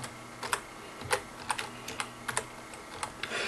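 Keys clack on a computer keyboard as a database name is typed into phpMyAdmin, several quick bursts of keystrokes with short pauses between them, close and fairly quiet, with no talking.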